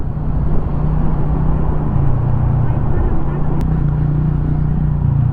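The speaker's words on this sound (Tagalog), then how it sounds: "May sasakyan dito, may sasakyan." A car on a road near Tagudin, Ilocos Sur, in the Philippines gives a continuous, loud, close vehicle rumble that stays steady for the whole stretch.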